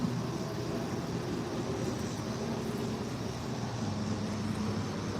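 A continuous broad roar of a jet passing overhead, loud and steady, blended with nearby road traffic rumble, including a loud semi truck.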